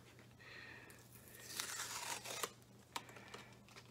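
Tape tearing off a securely taped package of sports cards, close crinkling and ripping bursts with sharp tearing snaps in the middle.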